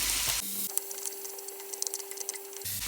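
Bacon and onion frying in a pan, a steady crackling sizzle that runs close and unbroken with a faint hum beneath, alone without voices.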